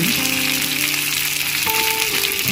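Duck meat with salt and spices sautéing in a pan gives a steady, dense sizzle and crackle that runs unbroken and close at hand, with no talking.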